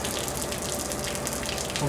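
Steady hissing rush of water spraying under pressure as it rinses out through a beer keg's dip tube, continuous and close, with no voices.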